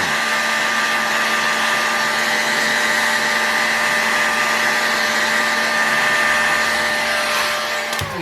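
A heat gun warms a small bearing piece during bearing replacement. It gives a loud, continuous blowing roar that stays even throughout, with no talking.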